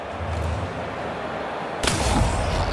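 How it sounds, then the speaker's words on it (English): A single heavy gunshot, a headshot in the video game The Outer Worlds 2, bursts out loud partway through and rings off into a rumbling decay over a steady low background hum. "That was a pretty nasty headshot."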